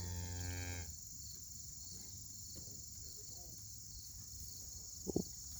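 A twenty-some-year-old cow with a new calf in the pasture gives one short, full moo at the start, then steady crickets chirp softly with a small knock near the end.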